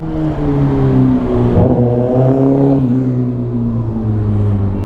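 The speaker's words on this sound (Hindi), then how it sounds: "मेरे को तो डर लग जाता है जब ऐसे बाइक आती है" A Kawasaki ZX-10R sports motorcycle roars past on the road, its loud engine note rising and then falling in pitch as it sweeps close by and pulls away.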